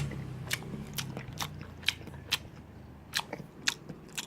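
Someone eats a plain omelette. Quiet, soft bites and chewing clicks come roughly every half second, close to the mic, with no talk.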